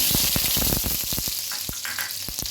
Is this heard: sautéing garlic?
yes